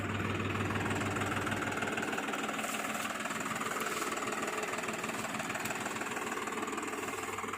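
A New Holland tractor engine runs steadily, a dense rumbling drone with faint knocking that holds an even level from start to finish, close by and with no voices.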